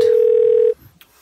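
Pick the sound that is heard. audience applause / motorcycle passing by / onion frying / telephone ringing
telephone ringing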